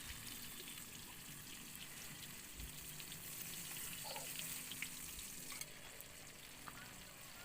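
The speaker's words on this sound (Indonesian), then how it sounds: "Ini tahu yang kita goreng guys" Tofu frying in a pan at a misty mountain campsite at the foot of Mount Rinjani, a steady close sizzle with soft crackles and occasional pops throughout, no voices.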